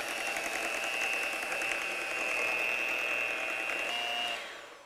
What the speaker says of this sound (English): I'm going to just take my handheld mixer and mix until it's all combined.